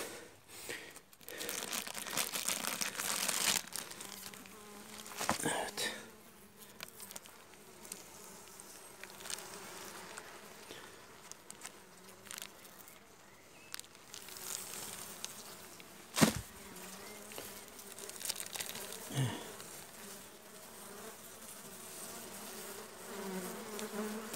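Dense, steady buzzing of many honey bees close by at a weak colony's hive during the rainy season, with occasional crinkly rustling and a few sharp knocks, no talking.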